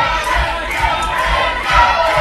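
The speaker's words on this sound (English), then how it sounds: "The crowd spurring him on." A wrestling crowd at a CCW Wrestling event cheers and shouts loudly and continuously, a dense roar of many voices.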